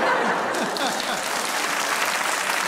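Applause fills the studio during a Geo comedy talk show: a continuous, dense round of clapping with voices and faint chuckles mixed in over it.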